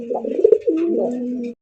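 Pigeons coo at a busy pigeon market selling local and foreign breeds, a steady, close, throaty rolling coo running the length of the clip with a faint background murmur.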